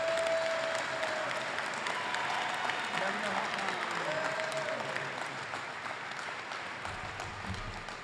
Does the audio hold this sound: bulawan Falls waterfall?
no